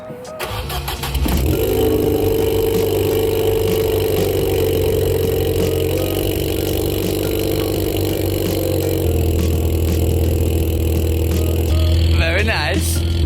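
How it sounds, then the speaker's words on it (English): A car in a warehouse cold-starts: a brief cranking burst, then the engine catches and settles into a loud, steady idle with a slight rise partway through, continuing close by to the end. "I'll give you guys a quick cold start."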